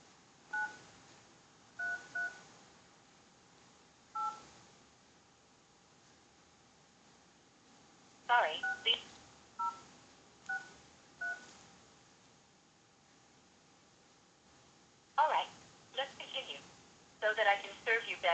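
Telephone keypad tones punched in during an automated customer-service call, landing as short paired beeps and clustered bursts of digits separated by long quiet gaps, clear and close over faint line hiss.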